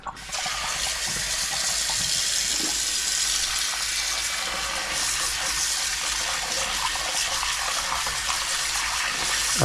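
Tap water runs steadily and splashes continuously over pork ribs being rinsed, a close, even rushing with no pauses.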